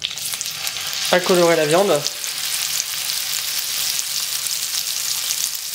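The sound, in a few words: beef tournedos searing in crackling butter in a hot pan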